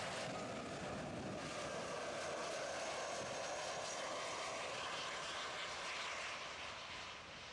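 An airplane at Miami International Airport produces a continuous loud broadband engine roar, steady throughout and heard from fairly close, with no voices.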